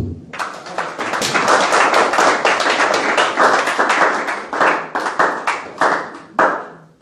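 A church congregation claps to acclaim Jesus, loud rhythmic handclaps ringing out close and steady, then breaking into separate bursts toward the end.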